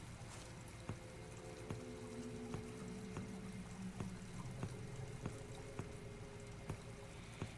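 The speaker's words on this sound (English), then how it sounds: "I hear water flowing in the pipes." Faint water flowing through pipes in a video game, a soft continuous trickling wash with a low steady hum and light regular ticks, heard alone.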